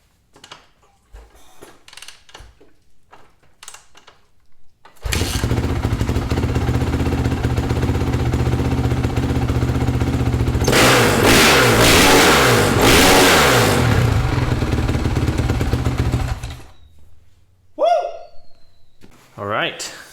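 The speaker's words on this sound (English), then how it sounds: "we fired it up. I'll show you guys what it's like, how it revs, how it runs" A 2008 Honda CR dirt bike's new engine starts and idles loudly, then revs hard several times before cutting off, with brief talk before and after.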